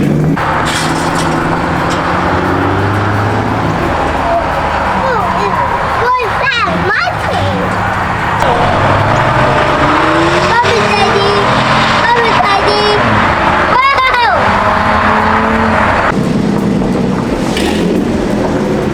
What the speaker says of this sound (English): That exhaust leak is pretty toxic.